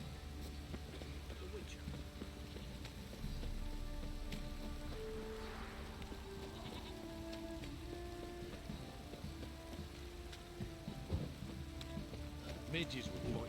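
A downpour in the video game The Witcher 3: Wild Hunt hisses as a steady, broad wash of rain, while faint game voices and other low tones sit underneath it.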